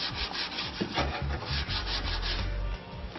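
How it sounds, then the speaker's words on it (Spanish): A foam sanding sponge rubs back and forth over a wooden painting frame in quick, close, rhythmic scrubbing strokes, loud and dry with no talking. "podemos también utilizar una espumita y así nos va a ser mucho más fácil la lijada"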